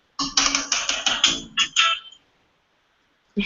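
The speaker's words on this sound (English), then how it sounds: "that was my phone ringing" A mobile phone rings close by in a short electronic melody of rapid tone bursts, stopping after about two seconds, followed by a brief sound right at the end.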